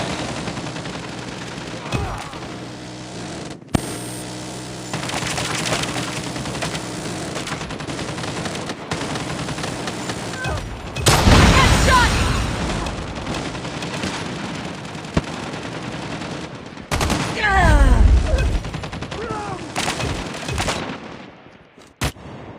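Video game sentry gun firing in rapid automatic bursts, loud and close, with gunfire clusters around the middle and again near the end amid game noise, with brief voice callouts.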